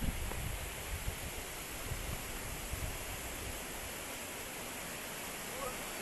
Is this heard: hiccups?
no